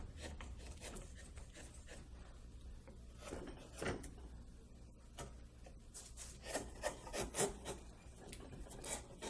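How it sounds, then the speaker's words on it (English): A hand tool bevels the edges of a wood carving, giving quiet repeated rasping and scraping strokes, a few sharper scrapes standing out, close and faint with no talk. "I'm just going to take and bevel down some of the edges here."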